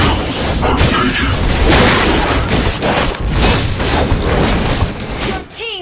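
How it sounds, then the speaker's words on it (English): Loud, dense game battle noise from Mobile Legends with continuous booms and bursts as a turret is destroyed, layered with effects and game voice lines throughout. "Your team destroyed a turret!"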